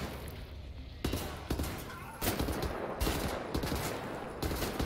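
Enemy shotgun blasts in Wolfenstein: The New Order, several loud booming shots at irregular intervals over a dense din of game noise, with a voice talking faintly at times.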